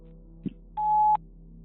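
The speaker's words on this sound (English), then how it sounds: "Please leave a message after the beep." A single steady electronic voicemail beep on a phone answering line, a clean sustained tone lasting under half a second after a faint click, with low line hum underneath and no talking.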